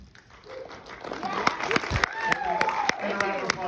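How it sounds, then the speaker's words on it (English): Audience applause at a Monster Squad screening event, with scattered claps rising under a voice as the crowd thanks the organizers. "So, round of applause for everybody that made it happen."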